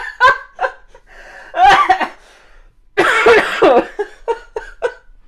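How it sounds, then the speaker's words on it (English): Several close coughs ring out in short bursts, separated by pauses, and are followed by giggling and snickering laughter. "Warren also demonstrated proper coughing etiquette"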